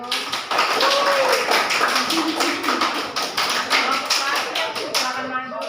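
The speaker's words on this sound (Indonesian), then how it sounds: "Oke, tepuk tangan dulu." Children in a primary school classroom clap their hands in a dense, steady patter that runs the whole time, near and loud, with voices mixed in underneath.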